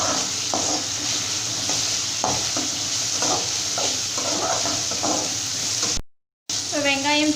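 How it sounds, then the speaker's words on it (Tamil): Onion and tomato sautéing in oil while being stirred for bitter gourd kulambu, steady sizzling with rhythmic scraping strokes of a spoon in the pan, close, followed by a brief gap and a voice speaking. "தக்காளியும் சேர்த்து நல்லா இந்த மாதிரி மிக்ஸ் பண்ணி வதக்கிக்கலாம்"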